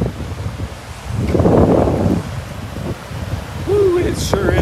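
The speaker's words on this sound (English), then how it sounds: "it sure is windy." Night wind sweeps across a Florida beach, gusting in uneven surges and buffeting the microphone with rumbling bursts, while faint sounds in the background come and go.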